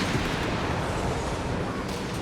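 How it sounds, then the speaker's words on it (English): A strafing run in the strategy game Company of Heroes 3, heard as a dense, continuous roar of rumbling gunfire and explosions. "Another strafe around here, courtesy of VonMant."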